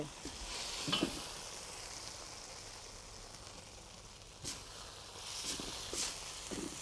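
Scallops with chopped scallions and a cornstarch, soy sauce, sugar and sesame oil sauce stir-frying in a wok: a faint, steady sizzle with occasional soft scrapes and clinks of a spatula.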